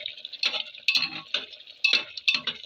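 A spoon scrapes and clinks against a pot while stirring beef curry (gorur mangsho kosha), five or six distinct metallic strokes in an irregular rhythm, close and fairly quiet with no talk.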